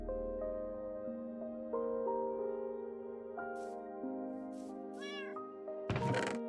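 A cat in the Minecraft video game gives several short meows over gentle in-game music, ending in a brief burst of louder game sound effects, with no talking.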